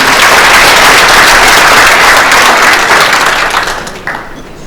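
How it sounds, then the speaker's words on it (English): Audience applause for the chief guest at a national conference, a loud, dense wash of clapping that holds steady, then thins and fades toward the end. "Let's give a big round of applause again."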